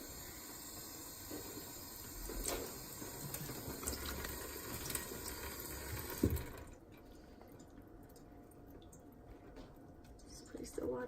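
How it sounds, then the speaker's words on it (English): Water runs from a sink tap onto material being wetted, a steady splashing flow for several seconds that then stops, leaving faint drips and handling noises. "And take it to the sink and then wet it."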